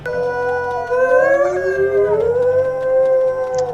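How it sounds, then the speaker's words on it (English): Several wolves in the video game WolfQuest howl together, long overlapping rising and falling tones layered into a loud, sustained chorus with no talk. "Really set off all the wolves within the area howling."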